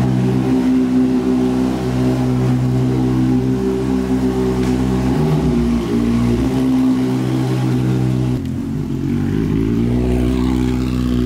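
A Honda Hornet motorcycle engine runs close by, holding a loud, steady droning note before its pitch shifts and dips near the end, with no talking over it.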